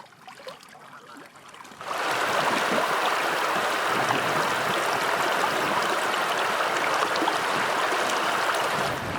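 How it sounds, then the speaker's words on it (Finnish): Loud, steady rush of river rapids on a fishing trek in Norway's Finnmark, starting abruptly after a quieter opening and continuing as a broad, unbroken roar close by. "Tässähän pääsee suorastaan laskemaan koskea."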